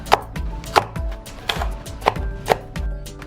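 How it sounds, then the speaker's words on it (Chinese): Chili peppers sliced diagonally with a knife on a cutting board, five or six crisp, evenly spaced chops landing close and clear, with no voices. "切成斜片。"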